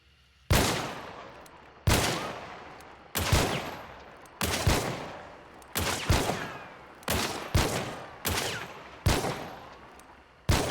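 LeMat revolver in Hunt: Showdown fired nine times in a steady series, each loud sharp crack followed by a short decaying echo, spaced about a second apart.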